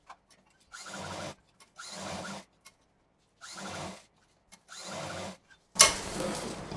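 A sewing machine stitches a sari-fabric cushion cover in five short, even bursts separated by brief silences, close and moderately loud, with a louder rustle of handled fabric at the end.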